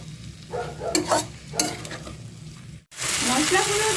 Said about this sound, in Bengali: মশলাটাকে আমি ভালো করে একটু ভেজে নেবো